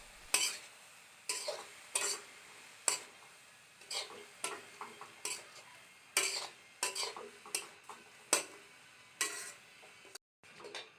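Taro leaves with salt and turmeric are stirred in a pan, giving a string of short, distinct scraping and clinking strokes of a spatula against the metal, fairly quiet and irregularly spaced, with a faint sizzle underneath.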